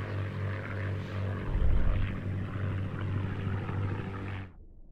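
Aircraft engine in the Scramble Battle of Britain flight game, with a Spitfire dueling a Bf 109: a continuous, loud propeller drone with a low throbbing hum that swells briefly, then cuts off abruptly near the end.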